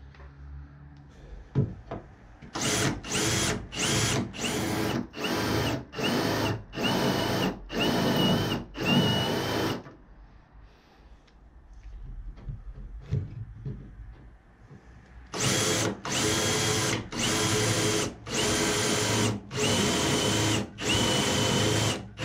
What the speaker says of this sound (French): une fois que la première tôle elle est percée